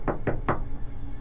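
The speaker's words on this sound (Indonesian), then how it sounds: "Diketok-ketok lah itu kamar Ronaldo." Three quick, close knocks on a bedroom door, evenly spaced at the start, followed by quiet room tone.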